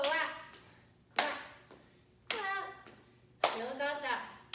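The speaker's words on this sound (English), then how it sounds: "So we'll step, clap, step, clap, step, clap, step, clap." Hands clapping in a step-and-clap rhythm during a total-body exercise class for Parkinson's, four sharp claps spaced about a second apart, each followed by an instructor's voice talking.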